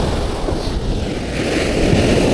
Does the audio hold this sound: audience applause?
no